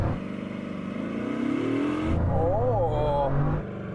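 A Bugatti Chiron Super Sport launches hard, its engine roaring and revving up through rising pitch before a gear change and a fresh surge, loud and close, with people talking over it.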